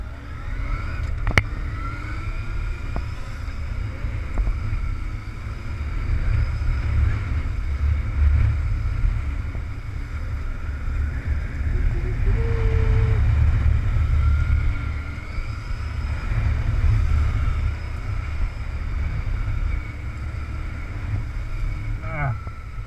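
A motorcycle rides a back-and-forth steering drill in second gear at constant throttle on a racetrack, a steady, close engine drone mixed with wind rush throughout, with no clear rise or fall in revs.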